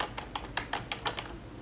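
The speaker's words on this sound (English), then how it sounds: "I'm typing on the keyboard." Fingers type on a 4Tech wireless keyboard, tapping out a quick run of about a dozen crisp, close keystrokes in a light, uneven rhythm, with no voices heard.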